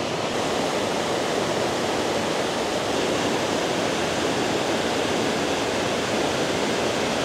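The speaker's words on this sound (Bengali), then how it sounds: "এই পাশ দিয়ে ঝর্ণার জল বয়ে যাচ্ছে তার আওয়াজ" A loud, constant roar of waterfall stream water rushing over rocks near the Chhota Rangit river at Thapa Gaon, North Bengal, unbroken and close, with no talking.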